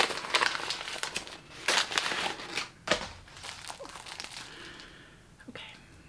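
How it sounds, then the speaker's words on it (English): Cute wrapping paper crinkles and tears in bursts as a squishy gift from a Dollar Tree mystery box is unwrapped close up, with several loud rustling crackles between quieter handling. "This is cute wrapping paper, Jamie."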